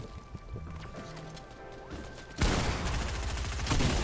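A Fortnite firefight in a duos match, with scattered clicks and small shots that break into a loud sustained burst of gunfire and crashing impacts about halfway through.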